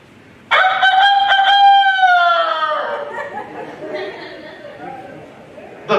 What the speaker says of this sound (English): When that rooster crowed